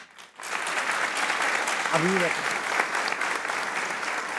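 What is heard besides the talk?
crowd applause at cricket show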